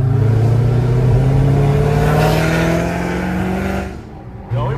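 A 2nd-gen Dodge Demon swap engine revs loud and close, a steady deep roar with rising harmonics that drops off sharply near the end, followed by a brief quiet gap and a short burst.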